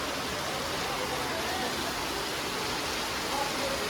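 Heavy rain falls outdoors as a steady, dense hiss that stays loud and unbroken throughout, with no other clear sounds standing out.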